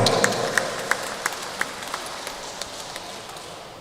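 A church congregation at a Sunday GKPS service in Cengkareng claps together, a broad steady wash of applause with sharp individual claps standing out, moderately loud and continuous throughout.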